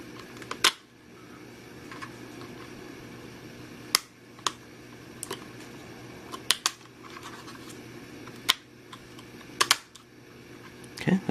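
A RAM module is seated into the memory slot of an older notebook during an upgrade, giving several sharp, close clicks and snaps spread across a low background hum.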